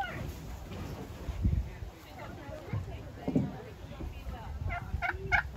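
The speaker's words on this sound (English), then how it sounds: "Oh, look at this turkey." A turkey gobbles in bursts on a farm with goats and roosters, rapid rattling calls repeating near the end amid outdoor ambience and soft human voices.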